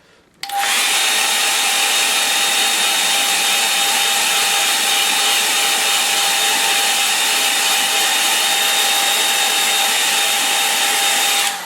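A hair dryer blasts steadily to dry wet paint on a small landscape painting, switching on abruptly after a brief quiet start and then holding a loud, constant whooshing drone close by.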